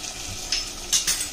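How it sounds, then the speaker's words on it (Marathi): Ginger, garlic and green chili paste fries in oil with onion in a pan, a steady soft sizzle broken by a couple of brief louder spatters near the end. "व्यवस्थित सगळं भाजून आलं, मिरची, हिरवी पेस्ट चांगली तेलात भाजली पाहिजे"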